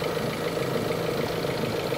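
Kia car engine idling steadily at close range, a smooth continuous hum with no talking over it.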